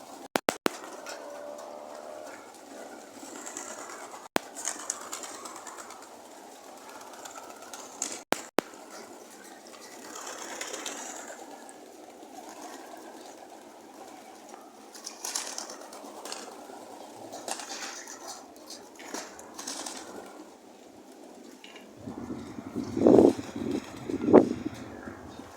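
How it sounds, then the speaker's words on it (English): Racing pigeons bathing outside their loft, with soft water splashing and faint bird sounds spread across a long stretch, a few sharp clicks, and a louder burst of splashing near the end. "Got the Sunday bath for the birds."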